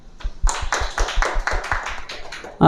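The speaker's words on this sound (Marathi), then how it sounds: "त्यांच्यासाठी टाळ्या वाजूया" A small group claps in a brisk, even rhythm for about two seconds during an interview with a Navodaya entrance exam topper from Nashik district. The claps are close and distinct, then stop abruptly.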